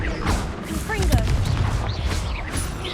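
In Hogwarts Legacy, Confringo blasting-spell explosions go off in several booming, crashing bursts amid busy combat sounds, with a voice talking over them.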